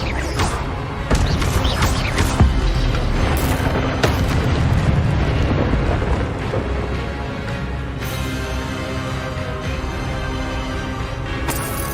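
Incendio fire spell cast in Hogwarts Legacy, heavy booming fiery bursts amid combat, several strong whooshing impacts in the first half followed by softer crackling effects and scattered hits.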